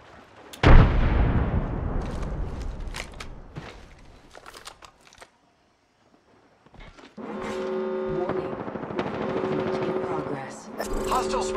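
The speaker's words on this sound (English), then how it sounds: "Throwing frag." Frag grenade in Apex Legends lands with a loud, sharp blast that decays into rumbling debris, followed by a quiet lull, then sustained droning game noise with tonal hum and a later clatter.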